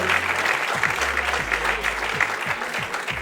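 Spectators at the Classic Tetris World Championship cheer and applaud a piece spin, a sustained wash of clapping and crowd noise under a commentator's voice.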